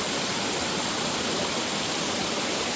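Cascade Falls waterfall in Jefferson National Forest, Virginia, rushes in a dense, constant roar of falling water, loud and close with no change and no voices.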